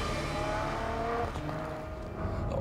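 A Ferrari FF's engine hums steadily as the car drives over sheet ice and snow, a sustained moderate drone with a slight dip in pitch midway and no talk.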